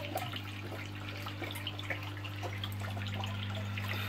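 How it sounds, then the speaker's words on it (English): Water steadily filling a shrimp aquarium, a continuous close trickle and light splashing under a low steady hum, with no speech. "it does fill up with water quite quickly."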